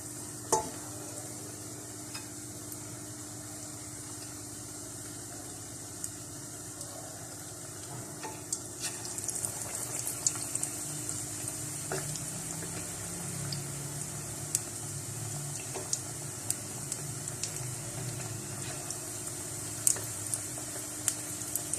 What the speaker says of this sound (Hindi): अंडों को मैं बेसन के अंदर डिप करूँगी और